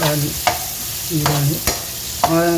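Onions frying in a pan for masala dosa filling, loud scraping stirs sounding in several distinct strokes over a continuous sizzle, close and clear with no talking.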